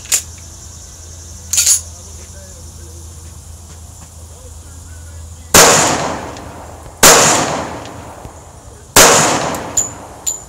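Pistol shots from a Girsan 1911 fed by an ACT magazine: three loud, sharp single reports spaced a second or two apart, each with a short decaying tail, preceded by faint clicks and handling.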